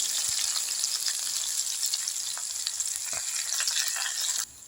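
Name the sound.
curry leaves and garlic frying in hot coconut oil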